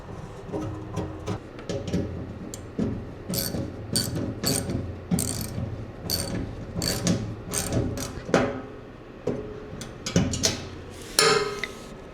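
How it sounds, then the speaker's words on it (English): Relays and parts are bolted into a 1982 Toyota electric truck conversion with a ratchet, heard as close bursts of sharp, rapid clicking separated by short pauses. "So I'm going to bolt all those things in here now"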